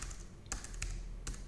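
Typing on a computer keyboard, three soft close taps spaced across a brief quiet moment.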